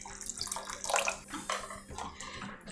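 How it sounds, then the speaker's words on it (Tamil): Water pours steadily into rava dosa batter for a tomato and dry fruit rava dosa, a close, continuous splashing trickle with no voices. "இன்னும் கொஞ்சம் தண்ணியும் ஆட் பண்ணிக்கிறேன்."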